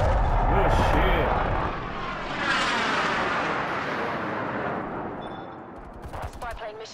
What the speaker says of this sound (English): Spy plane terminating overflight.